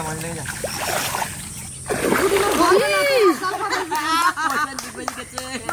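Water splashing and churning in a rain-flooded field while people drive out magur and koi fish, the splashes close and loud under excited shouting voices.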